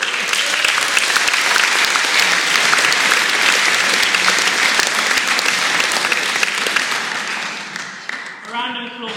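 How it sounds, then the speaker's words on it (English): Loud, sustained applause from a Christmas concert audience for the Porthcawl Community Orchestra's encore, a dense wash of many hands that tapers off near the end. "A round of applause as well for our fantastic Encore."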